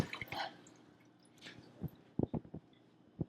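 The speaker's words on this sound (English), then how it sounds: "Yes, I'm spilling water all over the wall." Water spills from a small hanging fish bowl and drips down a wall, producing scattered close splats and wet drips with quiet pauses between them.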